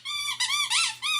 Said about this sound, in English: No barking today, just a squeaky toy.